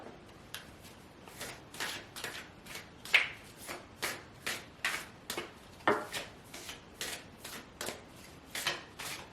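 Tarot cards being shuffled and pulled by hand, a steady run of crisp, rapid riffling flicks repeating about twice a second, close and fairly soft, with no voice over them.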